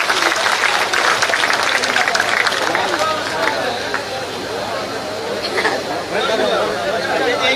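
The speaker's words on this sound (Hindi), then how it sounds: "ऐसे हमारे लोकप्रिय सांसद जनार्दन मिश्रा जी का जोरदार तालियां बजाकर स्वागत अभिनंदन करें।" Crowd at an outdoor political rally applauding to welcome a member of parliament, a broad, sustained wash of clapping mixed with chatter and crowd noise, fairly loud and continuous, easing slightly toward the middle before swelling again.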